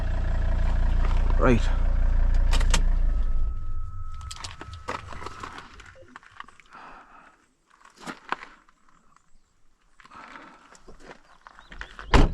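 A parked car's engine idles with a low, steady rumble for a few seconds near a bog, then cuts off, leaving quiet outdoor ambience broken by brief speech and scattered clunks.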